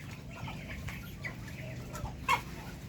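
Hens cluck softly in short, scattered bursts close by, with one louder squawk toward the end over a low background murmur.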